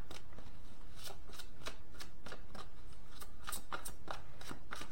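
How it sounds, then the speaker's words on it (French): Tarot cards are shuffled by hand up close, a series of quick riffling flutters and soft slaps repeating in an uneven rhythm over faint background hiss, without talking. "Je vais demander des cartes complémentaires."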